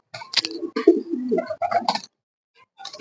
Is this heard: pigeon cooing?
yes